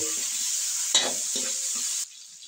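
Butter and garlic sizzle in a hot pan for buttered seafood, a steady bright hiss with a few soft stirring scrapes and clinks. It cuts off abruptly near the end.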